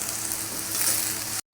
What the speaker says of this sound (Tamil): வெங்காயம் பொன்னிறமாக வதங்கிடுச்சு.